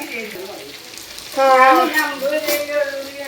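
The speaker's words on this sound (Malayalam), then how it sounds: "വെള്ളം വറ്റിച്ച് ഫ്രൈ ചെയ്ത് എടുക്കുന്നതാണ്" Pork frying in a pan once its cooking water has boiled off, giving a steady close sizzle that grows louder partway through, with voices talking over it.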